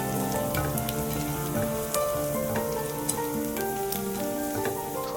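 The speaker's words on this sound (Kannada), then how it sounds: "ಹಾಗೆ ಶುಂಠಿನ ನೈಸಾಗಿ ಕಟ್ ಮಾಡಿ ಇಟ್ಕೊಂಡಿದ್ದೆ ಅದನ್ನು ಹಾಕಿ ಚೆನ್ನಾಗಿ ಈ ತರ ಫ್ರೈ ಮಾಡ್ಕೊಳ್ತೀನಿ" Finely chopped ginger and garlic fry in hot oil for gobi manchurian, making a dense, continuous crackling sizzle with scattered sharp pops, close and steady with no voices.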